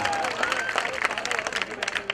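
Audience clapping at a Hindi-Urdu poetry gathering, a mushaira and kavi sammelan, heard as a short burst of scattered applause from a crowd, moderately close and fairly quiet.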